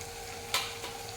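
Chilli powder and other spices for an egg curry fry in a hot pan under a soft steady sizzle, and one sharp scrape of a spoon stirring cuts through it. The sound is close and quiet, with no voices.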